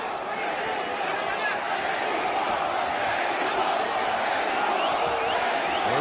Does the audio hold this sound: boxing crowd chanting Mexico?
yes